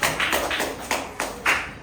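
A few people at a children's reading audition clapping for a young reader, a short run of separate, unsynchronised claps close by in a quiet room.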